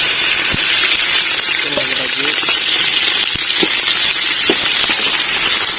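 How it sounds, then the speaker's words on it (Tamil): Green chillies sizzle in hot oil already seasoned with cinnamon, bay leaf, cloves and cardamom for biryani, giving a steady, loud crackling hiss with a few sharp pops throughout. "பச்சை மிளகாய் போட்டுக்கலாம்."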